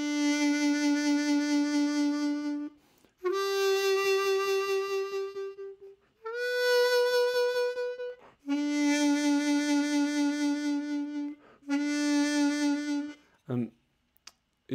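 A harmonica is played on the inhale with throat vibrato, giving several sustained, pulsing notes at different pitches, separated by brief breaths, close and clear with no talk.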